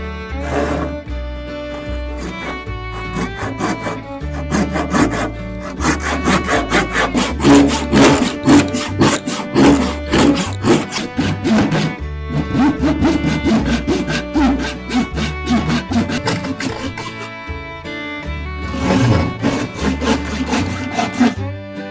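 A handsaw cuts through a hickory axe handle in rapid, rhythmic rasping strokes, close and loud, with short pauses between bursts of sawing.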